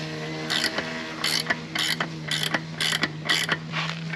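A bushing press tool creaks and ratchets while pushing a rear bushing into a 2004 GTO, giving about eight regular bursts of harsh grinding clicks over a steady mechanical hum, close and fairly loud.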